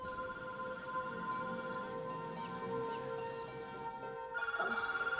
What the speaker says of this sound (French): il devait être 7 heures quand le téléphone a sonné.